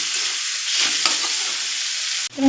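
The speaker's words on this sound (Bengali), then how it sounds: "দিয়ে কিছুক্ষণ নাড়াচাড়া দেবো একদম মিডিয়াম আঁচে রেখে।" Taro stolons frying in a pan over medium heat are stirred, producing a close, continuous sizzle with soft scraping strokes, then a brief sharp clatter near the end.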